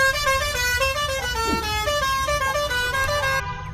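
A car coming from the opposite side honks on an Indian road in traffic, with loud, sustained, overlapping horn blasts from close by, steady for several seconds before cutting off abruptly.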